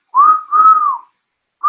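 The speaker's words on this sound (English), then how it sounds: "Do we need the halftime whistle?" A halftime whistle sound effect gives two clear, sustained whistle tones back to back, then a third begins; loud and close, with nothing else under it.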